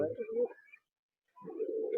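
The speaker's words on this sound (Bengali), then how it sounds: "সুমিতদার কাছে পরবর্তীতে আবারও 2 পিস মালবাহী পায়রা দেখাচ্ছে" Malbai pigeons, a Panjabi breed offered for sale in Howrah, coo in low, rolling calls close by. There are two bursts separated by a short silence, and a voice speaks faintly behind them.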